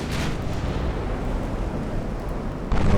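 Warship guns firing in the naval game Ultimate Admiral: Dreadnoughts, a dense, continuous booming roar with a loud burst at the start and another heavier blast near the end.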